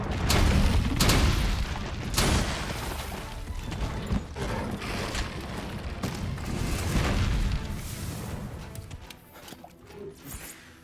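Heavy booming impacts from Nergigante's dive bomb attack in Monster Hunter World, two big crashes near the start followed by rumbling debris and fading mechanical noise.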